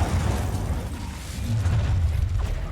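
A fiery whoosh and crackling burst from an Incendio spell in Hogwarts Legacy, loud and sustained, with a rumbling low roar that holds steadily for a few seconds.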